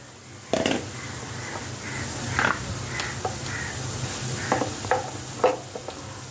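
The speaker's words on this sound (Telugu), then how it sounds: "ఉల్లిపాయలు వేగుతున్నాయి కదా" Onions frying in a pan for atukula upma give a steady sizzling hiss, with short clinks and stirring scrapes breaking through every second or so; no talking.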